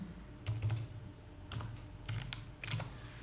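Someone types on a computer keyboard nearby in a few quick clusters of keystrokes with short gaps, and no one talks.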